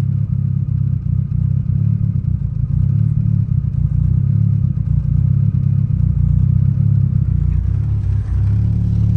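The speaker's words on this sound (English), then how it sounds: "the idle with a cop kit runs a lot smoother" A car engine idles smoothly after a Burton Racing coil-on-plug kit replaced a troublesome distributor, a steady close low rumble with faint ticking clatter running throughout and no speech.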